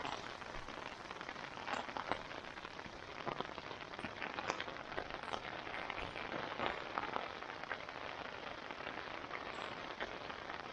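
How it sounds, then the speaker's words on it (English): Rain patters steadily on a tent at the Robson Pass campground, a soft, even hiss of many small drops with occasional louder taps, heard from inside with no talking. "Good time to be resting in the tent. It just started to rain."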